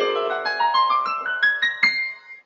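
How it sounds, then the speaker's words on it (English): A whole tone scale played on piano, about eight notes ascending step by step at an even pace, each note ringing into the next before a final held tone fades, clear and alone. "what that sound is the whole tone scale"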